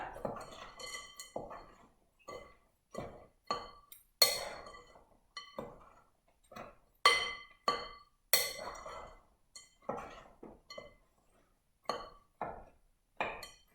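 Flour, salt and currants being stirred together in a bowl for hot cross buns, heard as a run of close, sharp clinks and scrapes of utensil against the bowl in an irregular rhythm, with no talking.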